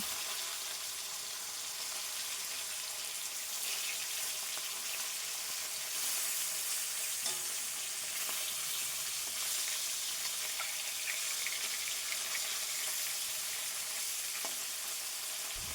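Snakehead (shol) fish frying in hot oil in a wok, an even, continuous crackling sizzle with no talk and little change in level throughout.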